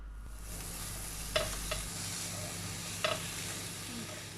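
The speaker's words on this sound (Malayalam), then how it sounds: "അവസാനമായി അതിൻ്റെ കൂടെ തക്കാളിയും ആവശ്യത്തിന് ഉപ്പും ഇട്ട് കൊടുത്ത് നല്ലവണ്ണം ഫ്രൈ ചെയ്തെടുക്കാം." Vegetables frying in a pan with tomato and salt: a steady, close sizzle with a few sharp clinks of a stirring utensil against the pan.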